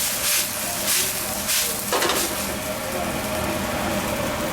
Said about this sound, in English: Here's a little sizzle going on there.